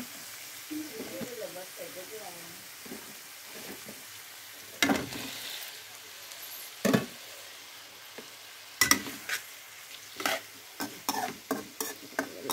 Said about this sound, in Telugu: ఇది ఫ్రై చేసేసి మనం ముందుగా కట్ చేసి పెట్టుకున్న వంకాయలు మొత్తం ఇందులో వేసేద్దాం